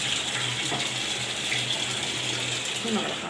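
Water is poured steadily while cleaning a washing machine, making a continuous close hiss with faint clicking and mechanical ticks underneath.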